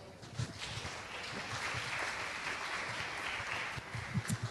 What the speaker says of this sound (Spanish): te damos un aplauso